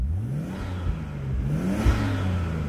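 A Nissan RB25 engine in an R33 Skyline revs up and down in close, loud pulls, its pitch climbing and dropping several times over a steady rumble.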